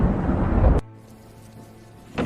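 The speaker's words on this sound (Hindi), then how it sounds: "आसमान में गरजती बिजली।" A sharp crack of thunder in a stormy sky over rain and wind, loud at first, then dropping to a low rumbling tail before another burst begins.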